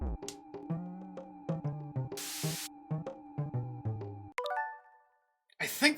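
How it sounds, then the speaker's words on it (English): A spray item used in the Mother 2 video game: a brief hissing burst of noise between tinkling chimes and bouncy game music, followed by a descending jingle and a short noisy burst at the end. "I think that might be bug spray?"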